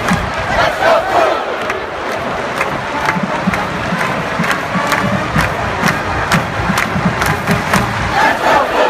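A huge college football stadium crowd at Michigan roars and chants in unison, a loud, dense wall of voices with rhythmic clapping accents running throughout.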